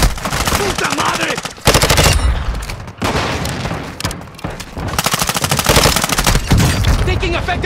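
Rapid automatic gunfire bursts in Modern Warfare 2 multiplayer, loud and close, firing in long strings of shots with short pauses between volleys, with faint voices mixed under the shooting.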